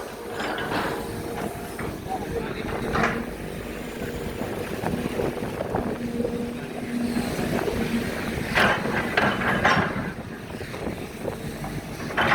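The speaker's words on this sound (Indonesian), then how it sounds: "anginnya ini cukup kencang ya" Strong wind gusts across an open riverside spot in the late afternoon, a rough buffeting rush over the microphone with louder bursts, while faint voices and some rattling sit underneath.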